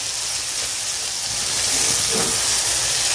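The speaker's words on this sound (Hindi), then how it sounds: "हम मसालों के साथ कलेजी को भूनेंगे" Goat liver frying on a hot tawa with crushed red chilli and spices over a high flame, giving a steady close hiss and sizzle that holds throughout with a slight swell partway.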